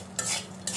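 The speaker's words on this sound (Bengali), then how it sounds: "এর সাথে মিশিয়ে নিতে হবে" A spoon scrapes and stirs fried dried shrimp with broken chillies in a pan, two brief close scraping strokes with a faint sizzle beneath.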